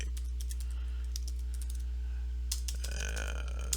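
Quick bursts of keystrokes on a computer keyboard, close and crisp, with a short pause midway before a faster flurry of clicking near the end; no one speaks.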